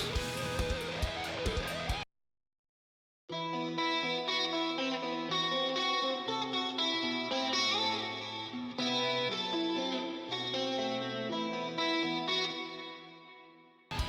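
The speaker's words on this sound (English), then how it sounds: "The cleans are also another highlight, as they had a pretty kind of glassy, almost dreamy kind of quality" Clean electric guitar through the Mixwave amp plugin, glassy and dreamy with chorus and echo, ringing chords and arpeggios across several seconds after a short pause, played alone without talking.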